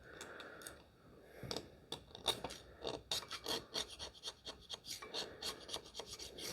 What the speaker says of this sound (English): At the very least, scrape the grease off.